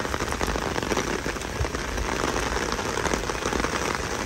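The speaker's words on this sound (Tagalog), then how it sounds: "Umuulan." Steady, dense rain pattering hard on a surface, a constant hiss with no letup and no voices.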